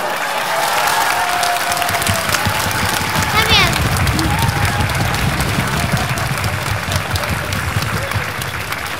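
A folk dance group at a jubilee celebration draws loud, sustained applause from a large audience, dense clapping continuing evenly throughout with faint voices mixed in.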